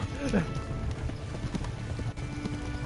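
A horse in Kingdom Come: Deliverance clip-clops along at a steady pace, and a neigh comes in near the start. Someone talks over the hoofbeats for much of the clip.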